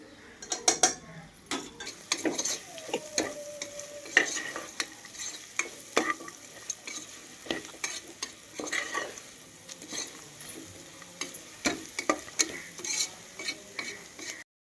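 Spices for egg biryani sizzle and crackle in a hot pan, with frequent scraping and stirring clatter throughout, no voices.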